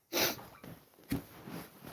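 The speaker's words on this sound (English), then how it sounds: "I don't want to be sniffing" Sniffing through a stuffy nose, two close breathy snorts about a second apart, each trailing off into soft rustling breath noise.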